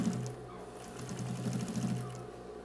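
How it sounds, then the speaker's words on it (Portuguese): A sewing machine runs continuously, stitching around the folded edge of a fabric patchwork mandala rug, its rapid motor hum and needle chatter steady and close with no talk. "Vem dobrando o círculo para baixo, virando a bordinha para baixo e costurando a volta toda"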